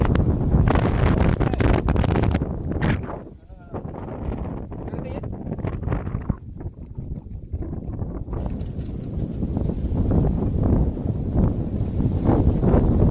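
Strong wind blasts across the microphone outdoors in a village, a heavy, continuous roar that dips briefly midway and builds again, with a voice talking faintly underneath.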